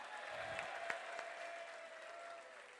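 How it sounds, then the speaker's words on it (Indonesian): Faint, distant clapping from a seminar audience fills the short stretch, a soft continuous patter of many hands. "Tepuk tangan untuk wanita."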